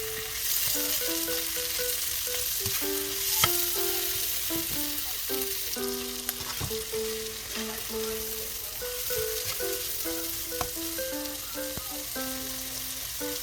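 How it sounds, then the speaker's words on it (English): Beef and mushrooms stir-fry in a pan, with a steady loud sizzle throughout and frequent clinks and scrapes of a utensil stirring against the pan, close up and with no talking. "Then add the mushroom and stir and fry them for about a minute"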